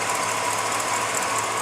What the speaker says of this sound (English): as you can hear, runs pretty good still. Just a little bit of an exhaust leak